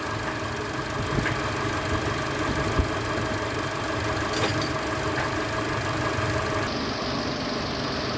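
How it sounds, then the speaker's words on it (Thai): A Mitsubishi Triton pickup truck engine idles steadily with an even, rough mechanical rumble and faint knocking, continuous and close, with a slight tonal change near the end. "เสียงเครื่องยนต์ก็ อยู่ในเกณฑ์ปกตินะครับ"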